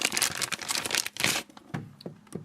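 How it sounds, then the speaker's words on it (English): A plastic bag for Oliver Peoples sunglasses crinkles and rustles up close in dense bursts, then settles into a few sparse, quieter crackles near the end. "So it comes in the Oliver Peoples plastic bag here with the Oliver Peoples logo."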